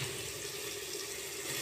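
Water pours steadily into a pan of homemade vegetable curry with a continuous, close rushing splash and no talk.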